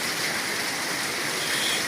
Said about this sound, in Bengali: এক নাগাড়ে বৃষ্টি ঝরছে